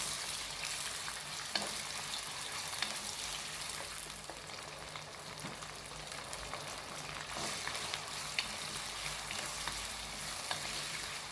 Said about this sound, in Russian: Дальше добавим любое мясо 200 граммов, у меня говядина. Обжарим до золотистого цвета.